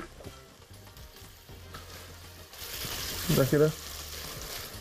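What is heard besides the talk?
potatoes and onion frying in hot oil in a large pan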